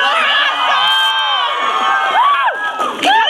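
A convention audience at an anime event cheers and screams loudly and continuously, high excited voices rising and falling together with whoops near the end.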